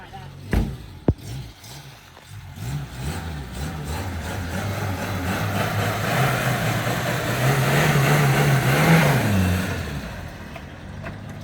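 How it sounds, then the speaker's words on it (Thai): Suzuki Caribian pickup truck engine running steadily with a low rumbling drone that rises into a revving swell near the end, a sharp knock near the start and occasional voices in the background. "เครื่องเงียบมากเลยอ่ะ"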